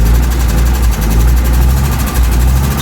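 Audi Coupe engine running just after a leaking fuel filter was replaced, a steady close rumbling idle held with light throttle, no voices over it.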